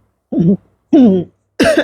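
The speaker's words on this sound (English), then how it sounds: "I keep clearing my throat." Three close throat-clearing grunts, separated by short pauses, the last one harsher and more cough-like.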